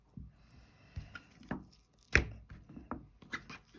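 A knife cutting through a raw chicken thigh while deboning it, with several soft, irregular cuts and scrapes and one sharper crunch near bone, close up with no talking.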